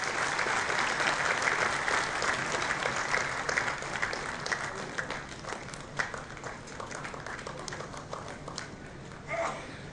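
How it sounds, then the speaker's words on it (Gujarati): Audience applause at a lamp-lighting ceremony during a police felicitation event at Sanjeevkumar Hall in Surat, a loud burst of many hands clapping that gradually thins and fades over several seconds. "માત્ર તાળીઓના ગડગડાટથી આ શુભમય મંગલમય પ્રસંગને આપણે"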